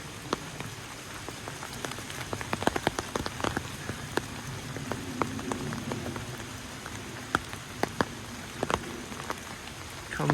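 Rain patters steadily outdoors in a constant soft wash, broken by many sharp, irregular drips and taps landing close by, with a low rumbling undertone and no voices.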